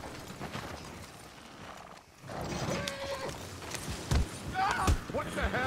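Horses pulling a wagon in Red Dead Redemption 2 whinny and snort amid a busy mix of clattering hooves and bursts of sound, with voices talking over much of it.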